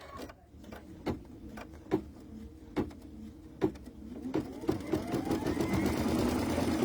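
An embroidery sewing machine stitches out a turkey design, its motor humming steadily with periodic clicks and thumps from the needle mechanism, building into a louder continuous whir toward the end.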